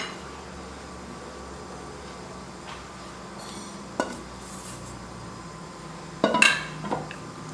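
A spoon scrapes around a bowl of oat and honey bread dough on a kitchen counter, faint soft scraping with two sharper clinks of metal against the bowl near the end.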